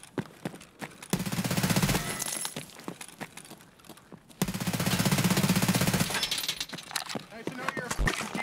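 Bursts of automatic gunfire in Escape from Tarkov, two long rapid strings of shots with scattered single cracks between them, loud and close, with someone talking over parts of it.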